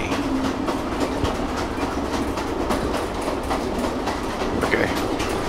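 A train in the video game The Final Station rolls steadily along the rails, with a continuous rumble and rhythmic clickety-clack of wheels, loud and unbroken with no voices.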